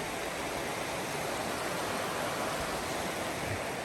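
The river at Bolton Abbey flowing past, a steady even rush of water with no break, heard close by on a riverside walk.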